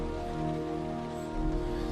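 Rain falls in the video game Heavy Rain, a steady soft wash of drops under low tonal music and hum, faint and continuous with no voices.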